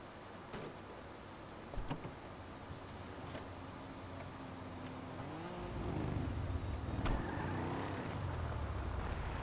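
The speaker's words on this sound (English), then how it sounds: "I got me a nice car, man." Car engine hum from a vehicle driven in Grand Theft Auto, a steady low drone that rises and thickens toward the end as it speeds up, with a few sharp thumps early on.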